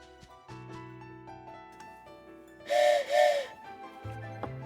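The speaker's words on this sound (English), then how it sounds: "My intuition was to blow the train whistle again." A train whistle from the video game Pokémon Shining Pearl gives two loud breathy blasts over soft in-game music.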